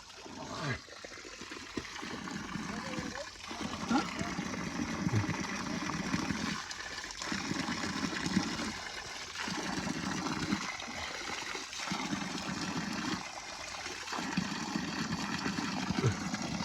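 A stream of water flows in a steady, continuous rush, close and fairly loud throughout with no voices.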